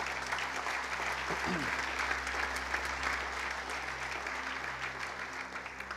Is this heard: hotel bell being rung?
no